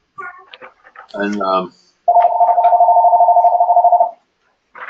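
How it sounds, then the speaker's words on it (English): A phone rings in the background of a recorded stress-management lecture session, a steady buzzing ring lasting about two seconds right after a short stretch of speech. "that's my phone in the background"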